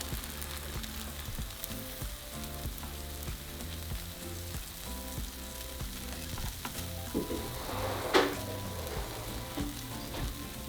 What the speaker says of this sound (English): So we're going to leave it there until our tortilla blisters.